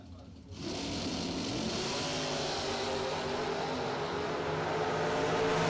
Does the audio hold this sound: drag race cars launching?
yes